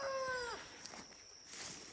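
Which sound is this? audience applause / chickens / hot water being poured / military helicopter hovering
chickens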